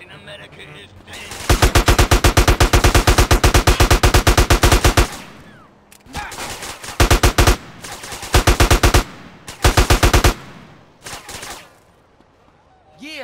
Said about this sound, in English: Yes, a gun.